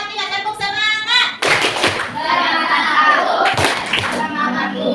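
Children do a rhythmic spirit clap, tepuk semangat, in a classroom computer lesson, their hands clapping in quick patterned bursts while young voices chant along with the beat.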